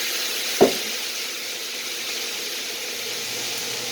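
Scampi and shrimp frying in a hot pan, a steady close hiss of sizzling oil with a single clack near the start.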